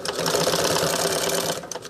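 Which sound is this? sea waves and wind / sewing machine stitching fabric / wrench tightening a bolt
sewing machine stitching fabric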